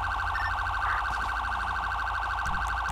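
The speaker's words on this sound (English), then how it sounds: "get in that HP car and just flick on the siren on and off for me" A highway patrol police car siren wails steadily and loudly close by, a continuous electronic tone sustained across the moment with faint background noise and no talking.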